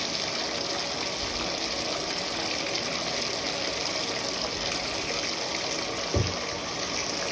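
Bathtub filling with hot water from the tap: a steady, broadband rushing gush that continues unbroken throughout, close and fairly loud, with a brief soft knock near the end.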